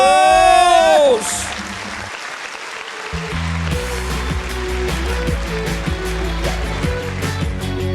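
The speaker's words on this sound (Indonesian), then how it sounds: "berikan tepukan tangan untuk Debt Collector Ramos." A studio audience on a comedy competition show in Medan breaks into loud, sustained applause that swells suddenly and then carries on under music.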